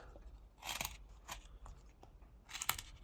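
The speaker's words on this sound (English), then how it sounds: "I'm pressing the blade into the wood, making a stop cut" A knife blade presses stop cuts into a block of wood while a simple duck is whittled, giving two close, crisp crunching bursts separated by quieter scraping and small clicks.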